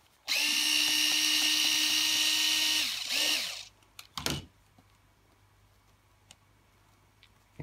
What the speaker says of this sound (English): So it's just a small Phillips screwdriver head to remove it.